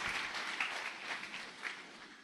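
Brief applause from a church congregation, with soft, scattered clapping that rises and falls in small bursts and sounds somewhat distant and faint.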